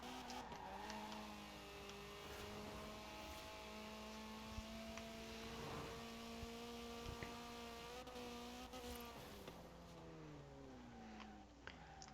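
Ford Capri Forza Edition circling a castle circuit of tarmac and sand in Forza Horizon 4, its engine droning steadily with gear-change pitch shifts and faint tire noise, heard alone throughout.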